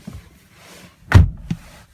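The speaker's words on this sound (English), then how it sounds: "But we'll step inside, close the door." An Infiniti Q50 door swings shut from inside the car with one solid, muffled thunk, followed by a fainter knock a moment later in a quiet cabin.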